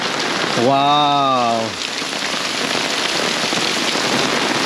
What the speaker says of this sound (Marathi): आणि गावाला पावसाला सुरुवात झाली